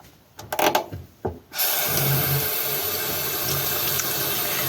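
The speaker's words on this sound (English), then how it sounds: "I'm going to wash my hands again so I can put everything else in" Hands scrubbed under a running kitchen tap while cooking a turkey: a few rubbing clatters give way to a steady, loud stream of water pouring into the sink.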